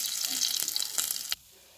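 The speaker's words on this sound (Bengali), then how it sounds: "সবগুলো মাছ ভেজে নেব।" Bata fish fries in a pan with a bright, crackling sizzle and a few sharp spits of oil, close by, before the sound cuts off abruptly into near silence.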